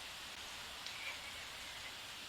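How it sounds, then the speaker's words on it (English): Steady, soft rain falls in The Sims 4: a faint, even hiss of drops with no voices and no breaks. "And it is a rainy day, which means that there is going to be a lot of water for my plants"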